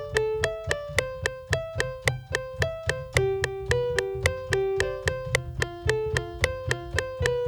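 Evenly paced, percussive FL Studio software piano notes with a thin synthetic tone, playing a simple repeating melody of steady plucked-sounding strikes, slightly out of tune, alone and fairly quiet.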